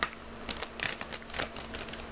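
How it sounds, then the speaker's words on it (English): Tarot cards being shuffled by hand, quick irregular riffling and slapping bursts, close and fairly quiet, with no talking. "You guys watch me shuffle them, and I shuffle them before too"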